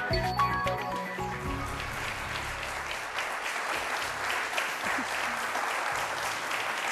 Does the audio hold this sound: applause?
yes